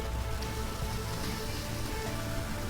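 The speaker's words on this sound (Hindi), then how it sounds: "सुबह से तेज हवाओं के साथ जोरदार बारिश।" Heavy rain falls with strong winds in Noida, a dense, steady hiss of downpour that stays constant and fills the whole scene without any voices.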